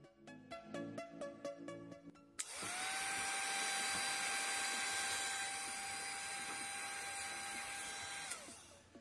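A homemade 12-volt drill machine powered from a socket power supply spins up with a sharp start and runs as a steady, loud, high whine for several seconds, then slows at the end; brief music-like tones precede it.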